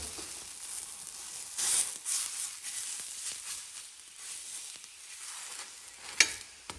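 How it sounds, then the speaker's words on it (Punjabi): Missi roti brushed with butter cooking on a hot tawa, a soft continuous sizzle with faint crackles and a brief sharper pop near the end, heard alone without talk. "ਹੁਣ ਅਸੀਂ ਇਹਨੂੰ ਦੋਨਾਂ ਸਾਈਡਾਂ ਤੋਂ ਚੰਗੀ ਤਰ੍ਹਾਂ ਸੇਕ ਲੈਣਾ"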